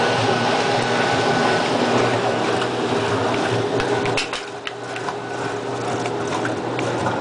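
A repaired Maytag washing machine spins with a loud, steady mechanical hum and rumble of water. The noise eases slightly partway through, and a few faint clicks and knocks break the drone.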